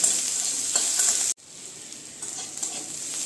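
Curry leaves, chopped garlic and ginger sizzle loudly in hot oil in a pan, a steady frying hiss broken by a brief stir that drops the level before the crackle resumes.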